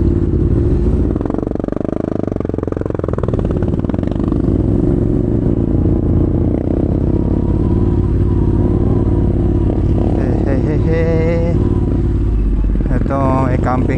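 A motorcycle engine runs steadily at a trail campsite in Nueva Ecija, a loud continuous drone with people talking over it.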